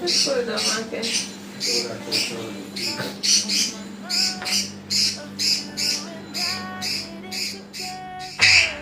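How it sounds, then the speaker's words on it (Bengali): Birds chirp and squawk in repeated short bursts in the early morning, fairly close and steady, with a faint background hum. "এসেই দেখলাম পাখিগুলো কিচিরমিচির করছিল"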